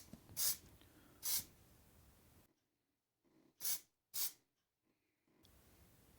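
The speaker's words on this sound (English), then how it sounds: "I protect it from rust with this zinc spray." Zinc spray from an aerosol can is sprayed onto a brake disc in four short bursts, the first two a second apart and the last two close together, close-up, with no talking.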